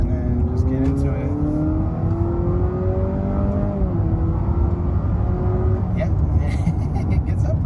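A Honda CR-V TrailSport hybrid accelerates hard in sport mode, its engine drone rising steadily in pitch inside the cabin amid loud road and wind noise, then easing briefly before building again.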